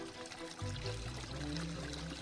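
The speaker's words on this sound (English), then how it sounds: "Can you hear something? Yes. Bit of water around the corner." A garden water feature runs around the corner of a landscaped garden, a soft, steady trickling flow that sits faint in the distance and grows fuller partway through, with no talk.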